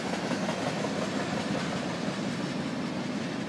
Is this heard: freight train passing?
yes